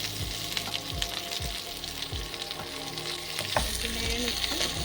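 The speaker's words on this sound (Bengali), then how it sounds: "নেড়ে নিচ্ছি।" Large chunks of potato and pieces of beans are stirred while they fry in a hot pan for a chicken stew. A constant crackling sizzle runs throughout, with repeated scraping strokes from the stirring.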